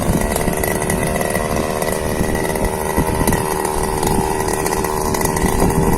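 A grass trimmer engine cuts grass in a rice field, a loud, steady, close buzzing drone that holds without pause throughout, with no talk over it.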